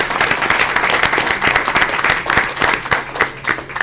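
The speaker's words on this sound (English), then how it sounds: "Another round of applause for Chalmette." Sustained applause from an audience at a St. Bernard Parish school board meeting honoring Chalmette students, dense steady clapping filling the room with a few sharper claps standing out, no talking over it.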